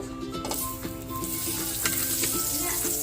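Butter sizzling in a pot for sopas, a loud steady close frying hiss with occasional stirring knocks and scrapes.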